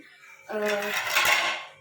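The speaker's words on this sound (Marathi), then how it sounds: "चला अगोदर भांडी घासून घेते" Dishes being washed in a home kitchen during a morning routine: pots, pans and utensils clatter and clink close by, a sharp metallic ring at first, then a busy jumble of knocks and scrapes for over a second.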